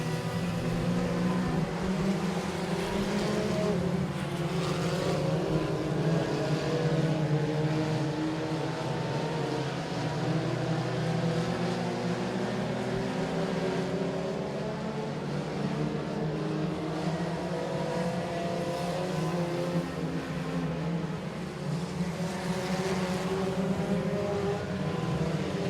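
Race cars roar around a speedway oval under the lights at Boothill Speedway after the green flag, a continuous layered engine drone heard from a distance, steady and dense with rising and falling tones and no commentary.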